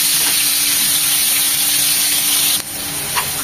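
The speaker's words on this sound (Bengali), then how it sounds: "লাল লাল করে আলুগুলো ভেজে নেব।" Potatoes fry in a hot pan over high heat, giving a loud, steady, close sizzle that holds evenly, then dips slightly with a brief clatter near the end.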